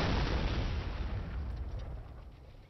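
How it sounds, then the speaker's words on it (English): A guided missile explosion in Fortnite gives one heavy, loud boom that rumbles and slowly fades over a few seconds, with no voices. "They're shooting missiles at us"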